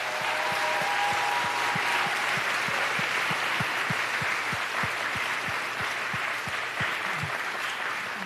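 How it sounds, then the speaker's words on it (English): An audience at a Queens town hall applauds a Girl Scout troop, a dense sustained clapping wash with a regular low thumping pulse running underneath and a faint tone early on. "Let's give them another round of applause."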